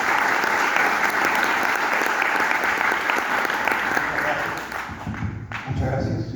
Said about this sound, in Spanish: Recibamos con fuertes aplausos al doctor de la Puente Brunque.